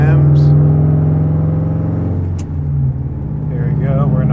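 A car engine, fitted with a homemade boost control valve, holds steady at about 2,000 RPM in fourth gear, giving a loud continuous drone with a constant low hum; a voice speaks briefly near the end.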